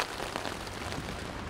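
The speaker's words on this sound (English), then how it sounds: "it's been hammering rain" Heavy rain falls on a tent in the wilderness, a dense, steady hiss of drops drumming on fabric, loud and continuous throughout.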